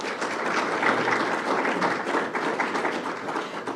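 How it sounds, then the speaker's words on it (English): An audience at a grant announcement applauds in a steady, dense wash of clapping that holds at an even level for several seconds, with no break and no voice over it. "Let's give them a round of applause."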